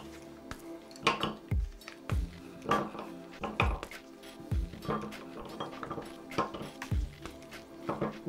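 Kitchenware being handled: scattered clinks, knocks and thunks of a pan of water and a small glass bowl set as a double boiler for melting chocolate, with occasional splashy drips, fairly close and irregular.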